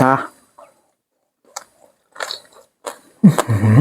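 Crispy pork crackles under several brief, close bites and chews spaced across a quiet stretch, with a voice speaking at the start and again at the end.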